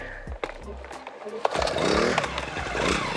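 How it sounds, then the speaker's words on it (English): A loud gas-powered ice auger revs and drills steadily through lake ice for several seconds while ice fishing, its engine roar rising after a brief idle and a few clunks. "let's go drill some proper holes."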